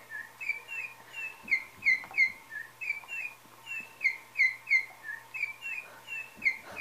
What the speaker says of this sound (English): And that bird is driving Tug nuts.